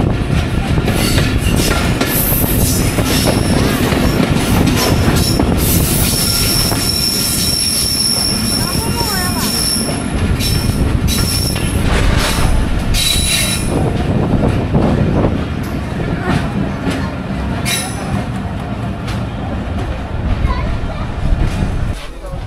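A Kanchan Commuter train rolls into Pirganj station in Bangladesh, its wheels squealing and metal clattering loudly throughout as it brakes, with voices audible amid the rail noise.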